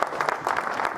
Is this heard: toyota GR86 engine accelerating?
no